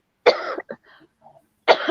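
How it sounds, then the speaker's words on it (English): A single close cough, a short rasp and a small throat noise, then another cough starts a moment later. "I've still got this cough."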